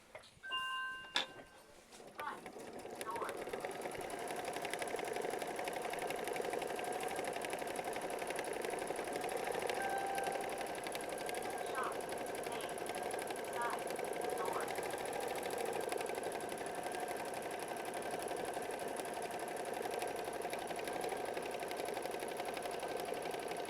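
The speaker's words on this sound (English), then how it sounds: "go ahead and stitch out machine stitch step 4" An embroidery sewing machine stitches out a heavy tack-down run on a quilt block, a steady fast mechanical whir with rhythmic needle ticking that continues for over twenty seconds after a few startup clicks.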